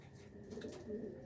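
Belgian racing pigeons coo softly in a loft, a low murmuring coo rising and falling over steady faint background hum, with no talking.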